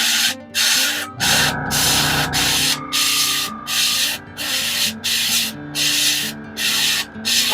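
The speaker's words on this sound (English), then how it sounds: "I am going to cover the model with the primer" Airbrush spraying primer over a miniature model, a steady hiss broken into repeated short bursts with brief gaps, loud and close, with no talking.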